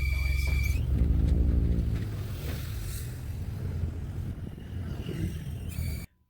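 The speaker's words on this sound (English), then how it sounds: "When I push the clutch in, it makes that noise." A 400-horsepower Trailblazer SS makes a loud, steady low rumble and whir with the clutch pushed in, holding for about six seconds before cutting off abruptly.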